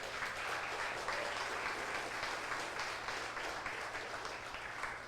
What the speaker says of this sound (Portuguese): Você pode dizer amém aplaudindo a Jesus Cristo?